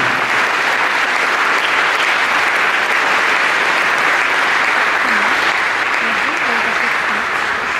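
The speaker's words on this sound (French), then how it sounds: "Je vous demande de l'applaudir." Audience applause during a speech at the 2012 Prix de la Laïcité ceremony, a dense, steady wash of clapping that fills the whole stretch at full loudness, with faint voices rising briefly underneath.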